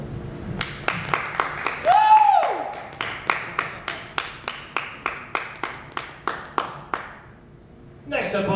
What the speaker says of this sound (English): Big round of applause for Charles's end